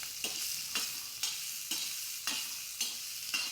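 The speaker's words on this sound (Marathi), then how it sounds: "आता तव्यावर तेल घालून व्यवस्थित भाजून घेणार आहे" Green mung bean seeds roast in oil on a tawa, and a spatula scrapes in regular strokes about every half second over a faint, steady sizzle.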